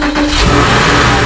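A crashed junkyard Porsche Boxster engine catches after a slow crank and revs up into a loud, close roar that holds strong for a moment.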